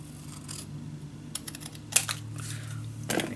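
Scissors snip through small pieces of paper in scattered quick cuts, quiet and close, with a few sharper clicks and rustles between them.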